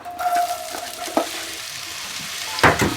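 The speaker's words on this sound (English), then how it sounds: "Now we're going to add the onions and peppers." Onions and peppers frying in olive oil in a skillet give a steady sizzle for about three seconds, with a few sharper scrapes and clicks from stirring near the end.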